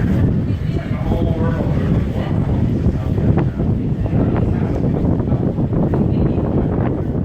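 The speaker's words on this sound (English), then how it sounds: "Probably hear the wind on this" Wind buffeting the bow of the ocean liner Queen Mary 2 at sea, a loud, steady roar and rumble that fills the whole stretch, with a voice faintly present underneath.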